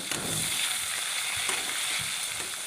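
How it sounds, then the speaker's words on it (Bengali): Whole spices and softened tomatoes fry in hot oil with cumin seed, cinnamon and two bay leaves, giving a steady, close, hissing sizzle with a few brief stirring scrapes and no voices. "পটল ভাজার তেলেই সামান্য জিরে ফোড়ন আর সামান্য দারচিনি আর দুটো তেজপাতা ফোড়ন দিয়ে আমি এগুলোকে একটু ভেজে নিচ্ছি"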